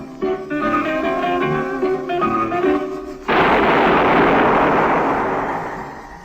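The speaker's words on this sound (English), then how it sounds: "That was the shot that killed Harry Lime" In an old-time radio drama about Harry Lime from The Third Man, a single loud gunshot cuts off the music and rings out with a long, booming reverberant tail that slowly fades.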